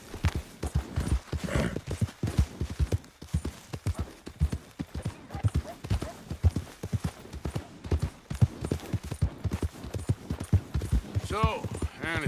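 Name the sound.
horse galloping in Red Dead Redemption 2 video game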